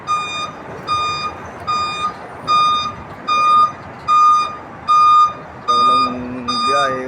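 Large trucks in a truck yard, one sounding a loud reversing beep that repeats steadily about once a second over a low engine idle, with a voice briefly audible near the end.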